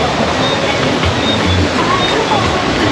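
A flowing river in Sacramento at night makes a steady broadband rush of water, loud and continuous with no breaks.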